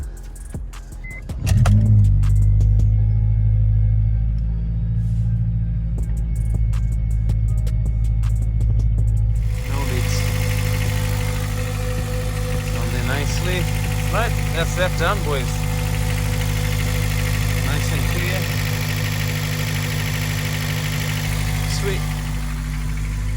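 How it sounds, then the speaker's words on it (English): A Honda Civic Type R EP3 engine cranks briefly and catches, then settles into a steady, loud idle with a low rumble close by, following an intake air valve delete. Someone speaks over it. "We'll start the car up and see if there's any coolant leaks or any vacuum leaks."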